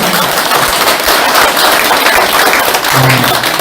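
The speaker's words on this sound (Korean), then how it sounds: "유명한 박수 부탁드립니다." Loud, dense applause fills a political party members' meeting, a crowd clapping continuously and close by, with a brief low voice near the end.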